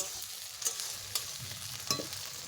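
Chopped tomatoes and onions are stirred in a frying pan for a chicken dish, giving a soft, low sizzle with three distinct scraping knocks of the spoon spread across the moment.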